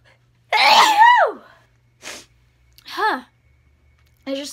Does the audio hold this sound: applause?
no